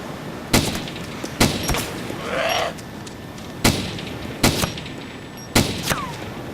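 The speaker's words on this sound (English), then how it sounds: "This gun is incredibly loud." Loud gunshots from a gun in the zombie survival game DayZ, five or six sharp single blasts spaced about a second apart with echoing tails, no talking.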